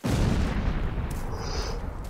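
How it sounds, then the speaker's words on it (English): Heavy, rumbling bursts of explosions and booming gunfire fill the clip continuously, loud and dense, with a brief high-pitched whine partway through. "Oh, explosions."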